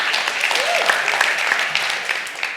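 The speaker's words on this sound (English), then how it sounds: "Give yourselves a round of applause." Audience at a business marketing keynote applauding, a short steady burst of clapping with a few voices and a shout mixed in.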